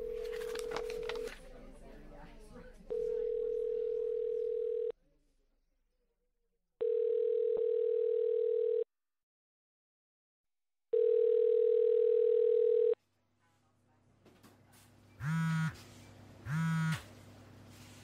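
A telephone dial tone sounds in steady blocks broken by pauses, followed by two short ring tones, with low background voices between.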